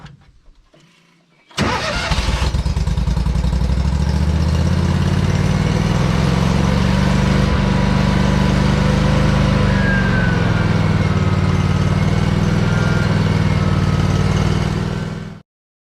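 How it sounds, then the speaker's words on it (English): A Miller Air Pak engine-driven welder cranks and catches after a short pause, then runs at a loud steady drone for over ten seconds before shutting off sharply. "Using a Miller air pack."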